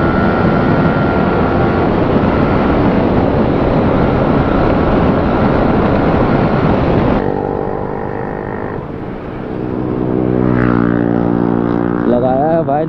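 A Yamaha R15 V3 BS6 motorcycle fitted with an Akrapovic exhaust roars loudly and steadily while riding, then its engine note drops and rises again as it eases off and revs back up.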